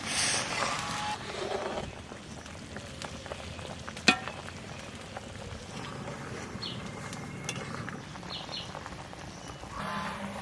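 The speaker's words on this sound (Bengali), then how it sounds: "এই যে উপর দিয়ে সব মাংসর গায়ে যে তেলটা থাকে সেই তেলটা ভাজতেছে" Chicken pieces fry in their own rendered fat with no added oil for a chicken curry, giving a faint, steady hiss with occasional soft clinks of the pan.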